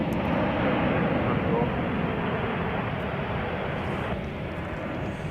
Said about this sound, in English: the engines of a Spirit Airlines Airbus